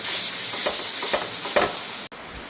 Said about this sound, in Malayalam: ഇതിലേക്ക് അരച്ചു വച്ചിരിക്കുന്ന അരപ്പൂടെ ഇട്ട് കൊടുക്കാം. നന്നായി ഇതിലോട്ട് ഇട്ട് ഒന്നുകൂടെ ഒന്ന് വഴറ്റിയെടുക്കാം.